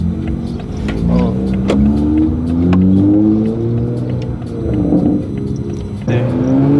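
A Toyota Supra engine revs hard at full throttle, a rising harmonic roar that climbs and falls over several seconds, heard from inside the car with people talking and exclaiming over it.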